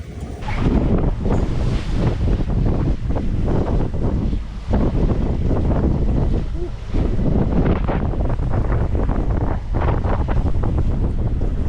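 A sailboat under way at sea off La Paz, Mexico, with strong wind buffeting the microphone in a continuous loud roar over the wash and slap of waves against the hull, and no voices.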